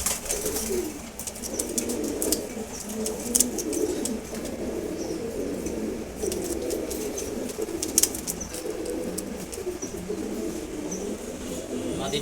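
Red checkered pigeons coo softly in a loft while wings flap in sharp bursts as one bird flies up, brief fluttering claps over a low, continuous cooing murmur.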